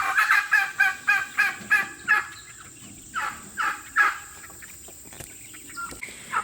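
Small bantam chickens cluck and squawk in a rhythmic run of about nine loud, close calls, then a few scattered calls with quieter gaps, in a barnyard coop with bedding shavings.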